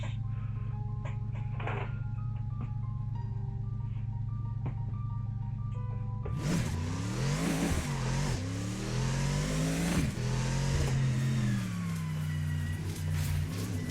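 A race car engine in Assetto Corsa built for GT League homologation idles with a steady low drone, then revs hard through rising and falling sweeps as it accelerates and shifts, loud and continuous.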